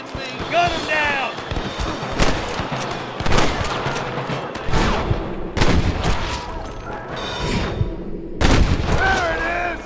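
Repeated gunshots in Red Dead Redemption, sharp loud cracks from rifles and pistols ringing out in irregular bursts during a shootout with rustlers, with shouted voices in between.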